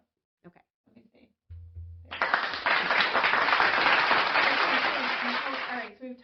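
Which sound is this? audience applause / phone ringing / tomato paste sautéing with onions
audience applause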